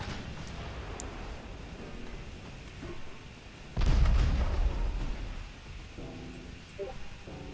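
A heavy boom from naval guns or a shell explosion in the warship game Ultimate Admiral Dreadnoughts bursts out midway over a low rumbling battle bed, then fades back into the background din.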